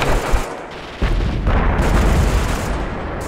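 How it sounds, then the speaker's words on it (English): Dense gunfire in a World War II Omaha Beach battle in Arma 2, loud and continuous with overlapping shots and heavy low-end booms throughout. "No, shit, we're already getting shot at."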